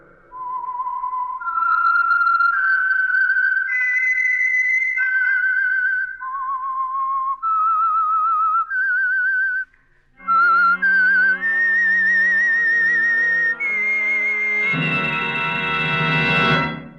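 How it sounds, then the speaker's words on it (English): A lone whistler performs the theme tune of the old radio program The Whistler, a clear melodic line of rising and falling notes, close and distinct, closed by a brief orchestral swell. "That whistle is your signal for the Signal Oil Program, The Whistler."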